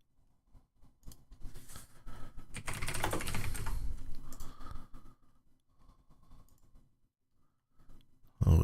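Keys on a computer keyboard clatter in quick, fairly quiet runs, densest in the middle, with a louder knock at the very end.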